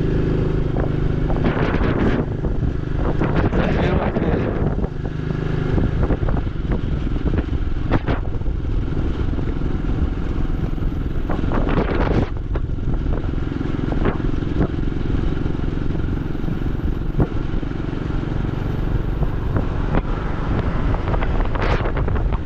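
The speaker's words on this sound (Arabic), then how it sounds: "الريح بزاف" Strong wind buffets the microphone in a loud, continuous roar while travelling along a rural farming road in Morocco, with rumbling gusts and brief bursts throughout and no speech.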